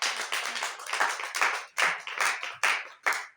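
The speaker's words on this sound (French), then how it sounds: "est-ce que tu peux applaudir pour le Seigneur pour ma vie?" A church congregation claps in rapid bursts, dense overlapping handclaps that swell and break into several distinct pulses, loud and near, without talking.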